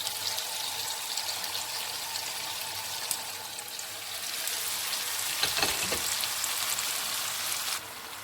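Steady loud sizzling of carrots and onions frying in oil, crackling continuously with a brief stir partway through.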